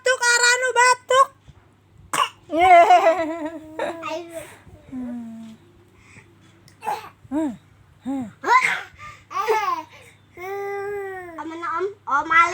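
A young child gives several short, close coughs in bursts amid babbling and playful vocal sounds, with adults talking and one voice imitating the coughing.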